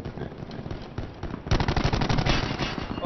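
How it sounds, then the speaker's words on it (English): Automatic gunfire in Call of Duty Black Ops 4 Blackout, rapid close bursts of shots that grow denser and louder halfway through and rattle on continuously. "Why do you keep shooting teammates?"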